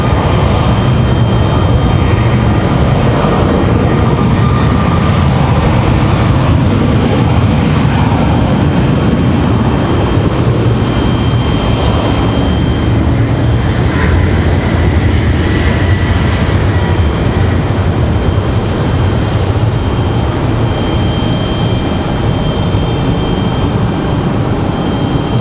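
Jets from American and Southwest Airlines land and depart at Raleigh-Durham International Airport, producing a continuous loud, broad roar that holds steady for the whole stretch with no talk over it.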